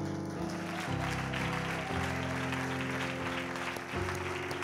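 A church congregation applauding and acclaiming the Lord, dense sustained clapping with a steady musical tone underneath, loud and continuous throughout.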